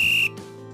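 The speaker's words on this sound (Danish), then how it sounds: "Og så fløjtede dommeren Dan halvlejen af." A referee's whistle ending the half of a school cup final football match: one loud, steady shrill blast lasting about a quarter second, then cutting off sharply.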